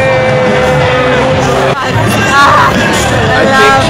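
A concert crowd at a show at The Ritz Ybor fills the room with loud, dense babble, cheering and shouts, and a brief dip midway before the roar returns.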